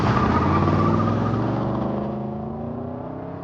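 A 1971 Ford Ranchero GT with a 429 Cobra Jet V8 drones with a low, throaty engine note that sinks slightly in pitch and slowly fades, as if pulling away, heard alone without voices.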